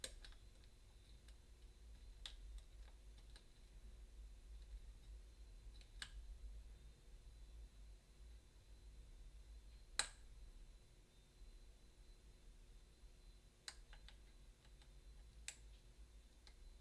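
A lock being tensioned gives small sharp clicks, scattered and uneven with gaps of a few seconds, very quiet and close against a low steady hum, with no talk.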